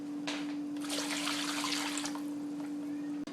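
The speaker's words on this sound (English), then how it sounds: "Then I'm going to add 2 or 3 cups of water to the pan." Two or three cups of water pour into a roasting pan holding a ham, a soft splashing trickle close by, swelling in the middle and ending abruptly, alone over a steady low hum.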